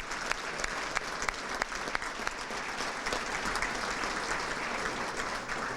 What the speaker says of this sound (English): let's everybody give Pauline a round of applause for being here